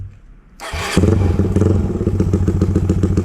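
A Honda CBR150 carburetor motorcycle with an API exhaust, loud and close: a clunk and rush as the engine fires, then a strong, steady, throbbing exhaust pulse that keeps building as it is revved.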